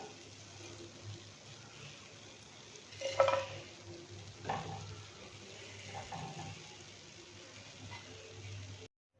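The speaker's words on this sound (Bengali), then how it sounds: "এগুলো লো আঁচে ভাজতে হবে।" Boondi, small droplets of gram flour batter, frying in oil over low heat gives off a soft, steady sizzle with a couple of brief louder clatters partway through.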